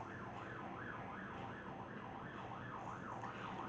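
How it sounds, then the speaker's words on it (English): An ambulance siren wails in a steady rising-and-falling sweep, faint and somewhat distant, with background traffic noise beneath it. "sorry about the ambulance"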